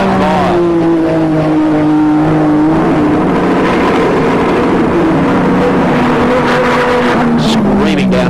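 A 1991 touring car laps Mount Panorama in the Forza 5 racing game, its engine screaming loudly and continuously with rising and falling pitch through gear changes while a commentator talks over it.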